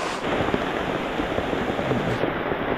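Heavy rain pours down in a dense, steady roar that fills the whole stretch without letup, loud and close with no talk over it.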